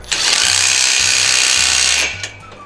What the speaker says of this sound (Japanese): ちょっと足場のクランプですけども、これを締め付けてみたいと思います